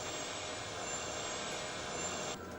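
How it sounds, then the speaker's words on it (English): Recorded aboard Air Florida Flight 90 during its takeoff run, a steady broadband jet-engine roar holds at reduced, less-than-full power, then dips slightly near the end. "Those engines sure ain't at full power."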